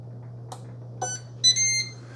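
A Ninja Belgian waffle maker (BW1001) signals that a waffle is done with a few short electronic beeps, the last one longer, over a low steady appliance hum.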